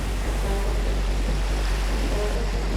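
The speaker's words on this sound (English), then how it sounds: "The wind is picking up, and the water's getting really choppy." Wind and choppy ocean waves at a beach where sharks patrol, heard from a kayak: a steady, loud broadband wash with low rumble and wind buffeting the microphone, continuous throughout with no talking.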